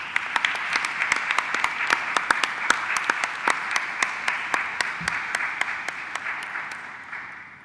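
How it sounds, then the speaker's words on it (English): Sustained applause in an assembly hall as delegates approve a nomination by acclamation, a steady wash of many hands with distinct sharp claps over it, tapering off near the end. "There being acclamation, which is what I just took that round of applause to mean"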